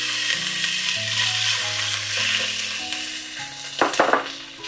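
Chicken gizzards sauté with onion in a hot pan, giving a steady loud sizzle with a few sharper stirring scrapes near the end.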